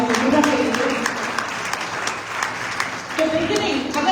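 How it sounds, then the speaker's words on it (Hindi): Congregation clapping at a Sunday church service, a short burst of applause blended with voices, moderately loud, with a speaking voice over it toward the end. "तालियां बजाएंगे"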